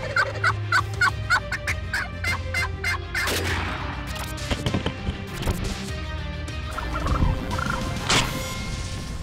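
An Avian-X turkey call worked by hand mimics a wild turkey, with a rapid series of sharp yelps at first and then looser clucks and purrs, loud and close with no talk.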